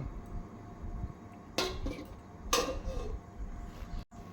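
A metal lid goes onto a cooking pot of cauliflower pulao with two sharp clanks close together, the second ringing slightly, followed by soft rattles over a quiet kitchen hum.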